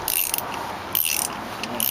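A ratchet torque wrench tightening engine head bolts, giving a close, brisk run of rapid clicking that stops briefly and then starts again, with no speech.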